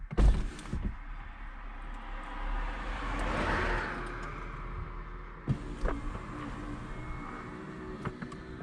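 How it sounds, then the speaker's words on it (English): A Porsche convertible roof opens by key, with clunks of latches and a motor-driven whir that swells and fades, then further mechanical thunks as the roof settles. "So I'm just opening the roof now with the key."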